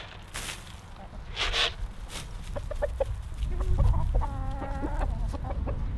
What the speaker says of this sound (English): It looks like we got one of the chickens out.